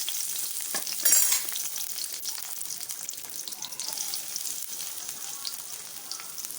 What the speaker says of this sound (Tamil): கொஞ்சோண்டு எண்ணெயை ஊற்றி வெங்காயம் பூண்டு எல்லாத்தையும் நம்ம என்ன செஞ்சுக்கலாம் கொஞ்சம் வதக்க ஆரம்பிச்சுக்கலாம்